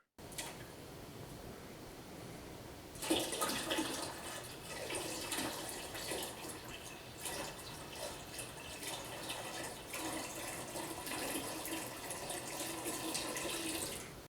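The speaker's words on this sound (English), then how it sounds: "we're going to add in some of our remaining 1 gallon of water." Steady stream of water pouring into a jug for making lemon wine, continuous and close, getting louder after a few seconds and running on without talk.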